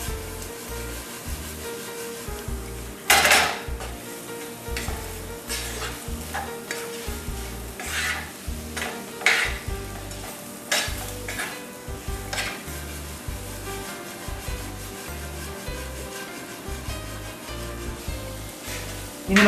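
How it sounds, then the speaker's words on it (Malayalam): Boiled potatoes stirred into a frying masala for achari aloo, a long run of repeated close scraping strokes over a constant sizzle, with occasional sharper clanks of the utensil against the pan. "നമ്മളിതിലേക്ക് വേവിച്ചു വെച്ചിരിക്കുന്ന ഉരുളക്കിഴങ്ങ് ഇട്ട് കൊടുക്കുകയാണ്. ഇത് നല്ലപോലെ ഒന്ന് മിക്സ് ചെയ്ത് കൊടുക്കുക."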